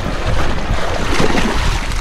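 Choppy water waves slosh and wash steadily around a swimmer out in open water, a continuous broadband rush with wind buffeting the microphone throughout.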